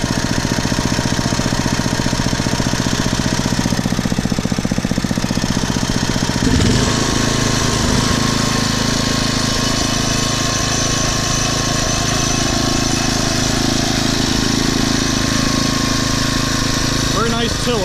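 A Briggs & Stratton 5HP engine on a Poulan/Weed Eater garden tiller idles steadily after a tune-up, a loud continuous low rumble whose pitch shifts slightly partway through as the throttle is adjusted.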